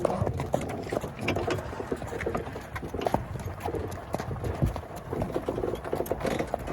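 Horses' hooves clip-clopping on firm ground, a busy, irregular run of sharp knocks from more than one animal, close and continuous throughout.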